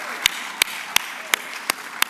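A handful of slow, evenly spaced single claps, six in about two seconds, ring out sharply over a low room hush during a college president's state-of-the-college address to an audience.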